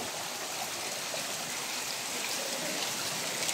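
Water drips and trickles from a very large rock, a steady bright hiss of falling water running continuously without pause, even in loudness and fairly close.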